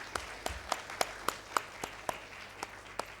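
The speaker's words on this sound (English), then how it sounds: "So big round of applause for the children first" Scattered, unhurried claps from a small audience at a 2019 school class forum for young children, about ten distinct hand claps spread evenly over a few seconds, fairly close and with no voices.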